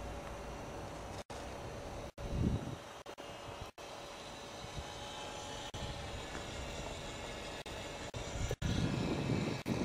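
A white model airplane flying overhead near gulls gives a faint, continuous engine drone that is broken by several abrupt dropouts, with louder bursts of wind buffeting.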